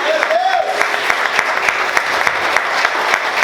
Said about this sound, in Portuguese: Você pode aplaudir e exaltar o Senhor